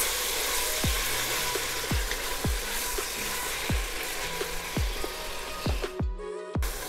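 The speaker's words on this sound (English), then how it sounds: "Now we need to cook it until the color of the lamb changes" Lamb pieces sizzle steadily in a hot pan for daal gosht, a continuous close frying hiss broken by regular soft knocks of stirring every half second or so, with the sizzle cutting out briefly near the end.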